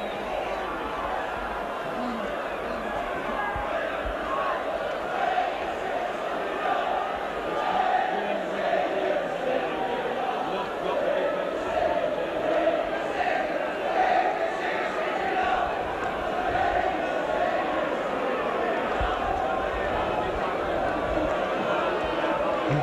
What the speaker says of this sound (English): the Warrington crowd are really buzzing now, really getting behind the team